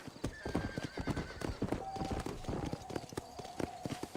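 Horse in the Red Dead Redemption video game, rapid rhythmic hoofbeats at a gallop with two drawn-out whinnies over the top, moderately close and continuous throughout.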